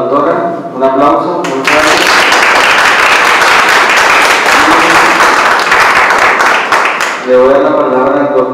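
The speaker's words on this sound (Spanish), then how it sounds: "Un aplauso." An audience at a conference bursts into loud, sustained applause that lasts several seconds, with a speaker's voice just before and after the clapping.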